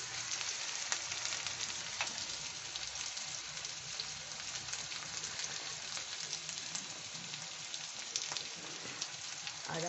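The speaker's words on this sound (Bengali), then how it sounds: "এই গোটা পেঁয়াজও আমি এর সাথেই কষে নিচ্ছি একবারে" Onions, both sliced and whole, sauté in a pan for chicken do pyaza, giving a steady, dense sizzle and crackle throughout with occasional sharper pops and no talking.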